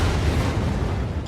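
Reactor explosion in the TV series Chernobyl, a dense, loud, rumbling roar of broadband noise filling the whole stretch with heavy low-end weight and no clear break.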